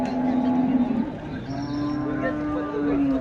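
Cows at a cattle market in Nulvi give two long, loud, steady moos close by, one after the other, over a busy market background.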